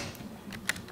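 Keys clatter on a computer keyboard during a seminar demonstration, a few quick, light clicks with two sharper taps near the end, close by over a faint room hum.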